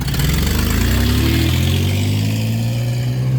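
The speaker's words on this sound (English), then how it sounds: "that was a loud truck" A loud truck engine roars close by on a street during a walk home, a heavy low rumble with rising tones that swells and then settles into a steady drone as it passes, with no talking.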